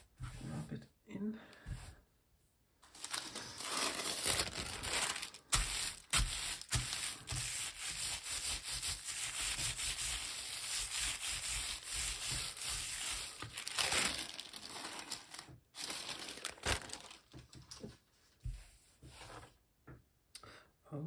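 Textured fabric rubbed by hand over a gelli printing plate, a steady close scratchy rubbing that runs almost continuously, with brief pauses at the start and end.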